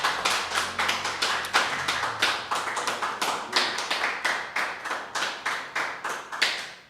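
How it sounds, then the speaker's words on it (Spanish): A church congregation claps together in a steady rhythmic beat, each sharp clap distinct and evenly spaced at about four per second, continuing without voices for several seconds. "Démosle un aplauso."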